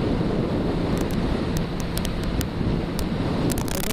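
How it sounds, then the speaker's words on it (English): Constant loud wind roar buffeting the microphone on a moving motorcycle on a windy day, a steady rushing rumble with occasional sharp clicks, no voices. "it's quite windy today"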